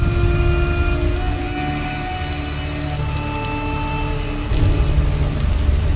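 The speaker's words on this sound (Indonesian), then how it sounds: "Di saat hujan turun" Steady rain pours down in a dark Viking-era outdoor scene, a dense continuous hiss with a low rumble underneath and faint tonal drones, loud and close, swelling slightly near the end with no voices.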